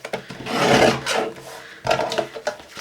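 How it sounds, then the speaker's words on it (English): A paper trimmer blade slides across the ends of a handmade card, giving two close, rasping cutting strokes with a short pause between them. "let me just grab my trimmer, and what I'm going to do to begin with is just cut right at the end"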